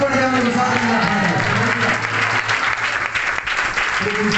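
Sustained audience applause fills a hall during a dedication ceremony in Rayagada, Odisha. The clapping is dense and steady from start to finish, with a voice faintly audible beneath it early on.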